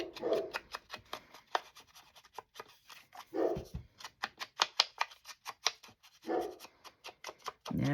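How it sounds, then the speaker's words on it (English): A dog indoors barks in a few short bursts spread across the clip, with a busy run of light tapping and scratching crafting noises between them. "I really am so sorry about him barking."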